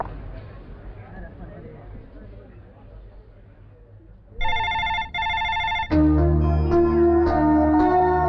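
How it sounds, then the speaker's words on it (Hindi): A telephone rings out unanswered, two bursts of a repeated electronic ringtone after a stretch of quiet background, followed by loud music with a deep, heavy underscore. "रिंग बज रही है लेकिन कोई उठा नहीं रहा है।"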